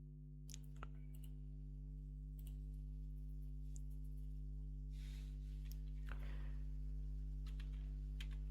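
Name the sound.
typing on a computer keyboard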